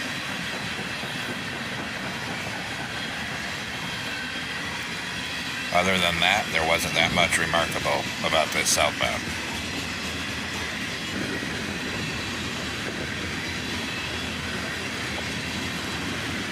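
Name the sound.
southbound freight train with Chicago Northwestern hopper cars passing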